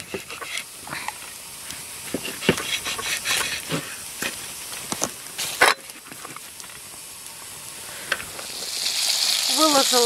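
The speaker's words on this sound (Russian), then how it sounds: "И сверху я выкладываю картофель нарезанный." Sliced potatoes sizzling and frying in a pan outdoors by a river, a soft crackling hiss with occasional stirring clatter and a rush of steam swelling near the end.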